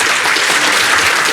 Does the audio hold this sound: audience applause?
yes